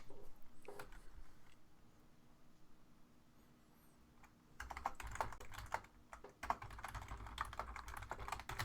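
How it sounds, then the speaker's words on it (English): Computer keyboard keys clatter in quick, uneven bursts close to the microphone, quiet at first and then denser typing. "Y'all hear me typing."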